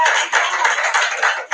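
An audience at a lecture on countering the conspiracy to destroy Black boys gives a brief, dense round of applause, heard as a thin, band-limited rush of many hands clapping at once.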